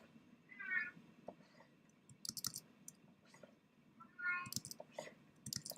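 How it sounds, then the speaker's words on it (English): A pet cat outdoors meows twice, a few seconds apart, faint and a little distant, with scattered clicks and small household noises in between. "She goes from meowling when she's outside to like meow as soon as I let her in."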